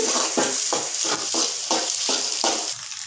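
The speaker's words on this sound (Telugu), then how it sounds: "చక్కగా ఎగ్స్ అన్నీ వేగుతున్నాయి" Eggs fry in a pan for fried rice with a steady close sizzle and six or seven rhythmic stirring scrapes about every half second, no voices.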